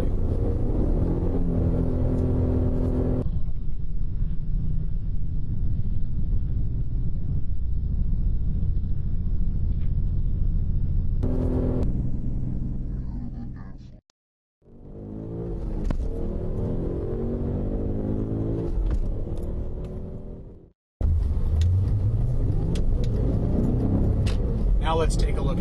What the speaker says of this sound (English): my job with my right foot is to rev the engine to that new speed while the clutch is in